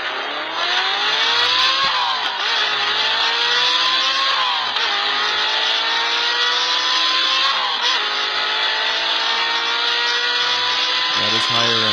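A Porsche with a V8 engine revs hard and continuously, its exhaust note rising and falling in repeated sweeps, loud and close throughout.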